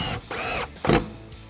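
A power drill drives a screw into a wooden coffee table in two short bursts of whirring, separated by a brief pause, close and fairly loud with no talk.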